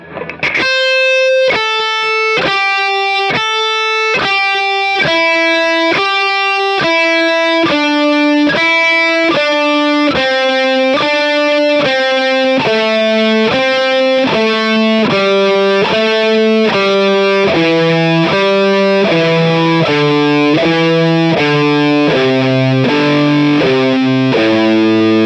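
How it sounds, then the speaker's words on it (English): A slow blues rock improvisation on a distorted electric guitar, single notes picked one after another in an unhurried, evenly spaced line that gradually descends, loud and sustained with no talking. "So let's have a listen, very slow tempo"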